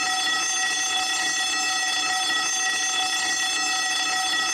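A fire alarm, set off by a pulled switch, sounds as a loud, steady electronic tone with rich harmonics, holding unbroken and at constant level for the whole stretch, with no voices over it.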